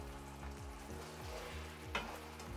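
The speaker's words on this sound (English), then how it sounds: "So we're just gonna chuck in all of our beef now." Beef pieces frying for crispy chilli beef, a steady close sizzle with a low rhythmic hum and a brief sharper crackle or clink near the end, no voices.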